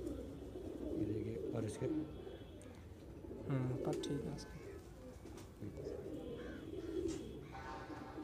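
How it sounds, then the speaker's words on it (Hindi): Fulsara pigeons coo in soft, repeated throaty bursts close by, while someone talks over them almost throughout. "तो भाई ये फुलसरा कबूतर देखिए"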